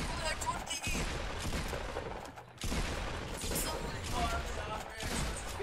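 Gunfire in the Fortnite video game, dense overlapping shots and bursts running nearly throughout, loud and busy, with a brief gap partway through and a game mix of mechanical clatter beneath.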